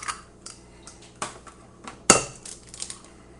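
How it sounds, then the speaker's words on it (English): Two eggs cracked into a bowl for French toast batter give a few light taps and clinks close by, with one sharp crack and shell crunch in the middle and no talking. "So I'm going to go ahead and crack in 2 eggs."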